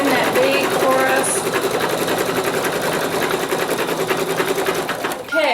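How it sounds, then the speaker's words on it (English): An embroidery machine sews the fill and outline stitching of an owl's beak on a mug rug, a steady rapid mechanical chatter that runs continuously and close up. "It stitches that fill, and that's going to do a little stitch around the outside just to define that"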